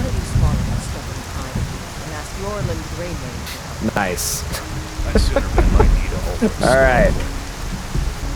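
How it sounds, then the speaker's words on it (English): Heavy rain falls steadily in the video game Skyrim, a dense hiss filling the whole scene with low rumbling beneath, while a person talks over it. "that rain is fierce"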